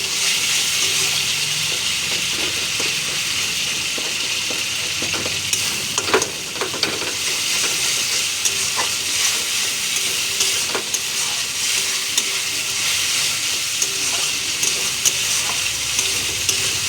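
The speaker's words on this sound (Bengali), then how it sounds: "আর টমেটোগুলো একটু ঘেটে নিই" Masala with tomatoes fries in a pan for vegetarian ghugni while being stirred and mashed, a continuous sizzle with scattered scraping and clicking strokes throughout.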